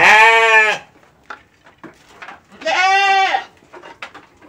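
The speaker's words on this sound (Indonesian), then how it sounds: "Nah, ini anakan domba ini berusia 3 bulan" A three-month-old lamb from a black Texel ewe bleats in its pen, two loud, close, wavering cries separated by a couple of seconds of quiet pen noises and small knocks.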